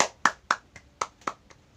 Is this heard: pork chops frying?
no